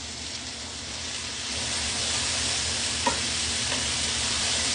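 Vegetables seasoned with cumin, smoked paprika, onion powder and garlic powder sizzle in a pan for chicken enchilada soup. The hiss is loud and steady and grows slightly, with one brief stirring knock. No voices are heard.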